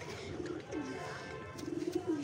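Soft, repeated cooing of a newly paired male and female pigeon nearby, low rolling calls in two bouts, with some background rustle.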